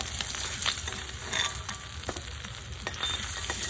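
Pangas fish frying in a pan for a Bengali potato curry, a steady close crackling sizzle with scattered pops and spatters, no voices.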